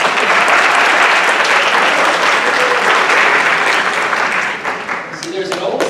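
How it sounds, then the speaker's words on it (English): A round of applause from a college audience, loud dense clapping that fills the room steadily, then thins slightly near the end as scattered claps trail off. "Can we give her a round of applause?"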